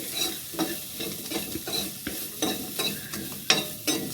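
Food fries and sizzles in a pan while being stirred, with close, rhythmic scraping strokes repeating about every half second over a constant crackle.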